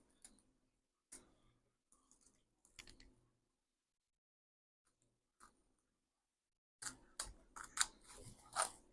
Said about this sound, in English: Take my handy dandy